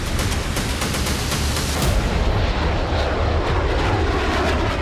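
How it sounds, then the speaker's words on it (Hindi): A fighter jet roars over a war zone, its engine a loud, continuous broadband rush that stays steady for about five seconds with no voices. "फाइटर जेट से बम बरसाए जा रहे हैं"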